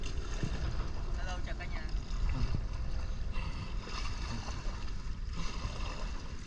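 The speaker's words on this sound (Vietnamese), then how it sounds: "Đây, đây là cái cảnh chèo đò rất hiếm có." A rowboat is paddled along the Saigon River, with a steady wash of water and wind rumble throughout, and a voice talks over it.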